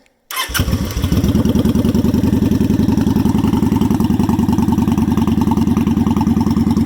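A Kawasaki Vulcan motorcycle with a modified exhaust fires up after a moment of silence and settles into a loud, close, fast warm-up idle, with a steady rapid thumping pulse and no talk.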